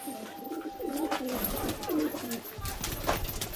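Kaldum pigeons of short size, freshly released, cooing softly among fluttering wings and faint chirps, with voices talking nearby at low level.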